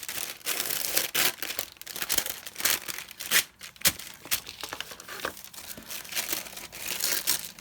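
A sheet of wax paper is pulled and torn apart along its seam, close up, giving continuous crinkling and crackling with bursts of ripping.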